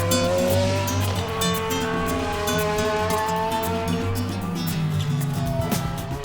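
Ferrari-powered A1GP prototype race car lapping a test track, a loud high-revving engine wail climbing and dropping through gear changes, close and continuous with tire noise.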